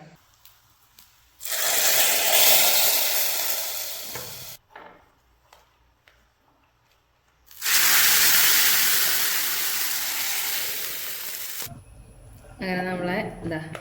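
Two loud bursts of crackling, hissing sizzle as mustard seeds and curry leaves hit hot oil, each fading gradually, with quieter clatter between and a voice briefly at the end.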